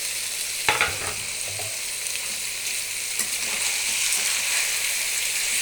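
Cut tomatoes for gongura chicken curry fry in a pan with a steady, hissing sizzle, a few stirring scrapes near the start and the frying growing slightly louder toward the end.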